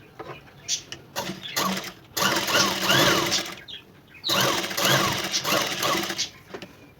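A sewing machine stitches darts into a blouse, whirring in short close bursts of rapid stitching that stop and start several times.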